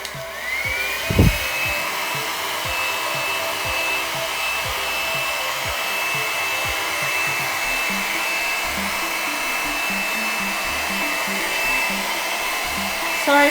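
Mini blow dryer runs steadily over a Dutch acrylic paint pour, a close, high whining hum with a constant airy rush, briefly bumped near the start, and no talking.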